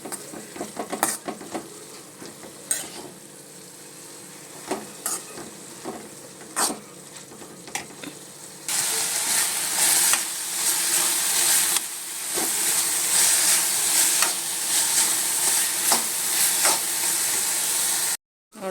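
Challa avarekai beans fry in a pan, a soft sizzle with stirring clinks that swells into a loud, dense, hissing fry about halfway through, then cuts off abruptly; no talk.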